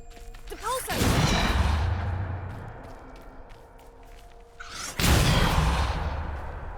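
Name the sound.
Depulso spell cast in Hogwarts Legacy video game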